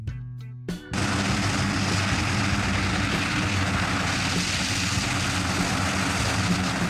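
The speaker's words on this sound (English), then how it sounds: "HAL C-295, a medium transport aircraft originally designed by Airbus but produced under license in India" HAL C-295 medium transport aircraft, an Airbus design built under license in India, roars loud and steady with a broad, dense engine and propeller drone that starts abruptly after a brief quieter moment and holds unbroken.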